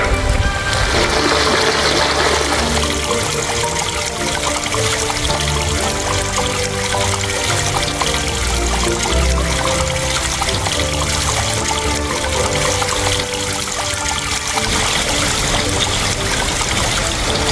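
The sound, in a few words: water overflowing a levada channel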